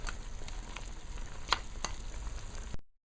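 Duck curry bubbling in a pot, a soft steady simmer with scattered pops and crackles, faint and close, cutting off abruptly near the end.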